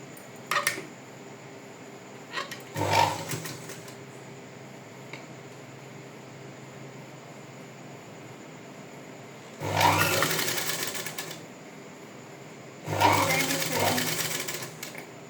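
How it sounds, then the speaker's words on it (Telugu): Sewing machine top-stitching the piped front of a blouse, heard in three distinct bursts of rapid mechanical stitching separated by quiet pauses, close and fairly loud. "నెక్స్ట్ ఇలా తిప్పేసి టాప్ స్టిచ్ వేసుకోవాలి"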